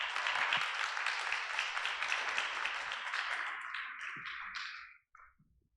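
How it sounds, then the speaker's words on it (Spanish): A church congregation applauds a pastor with a warm wave of many clapping hands that holds steady, then fades and stops abruptly, leaving a few scattered claps. "vamos a recibir al pastor Torres con un fuerte aplauso"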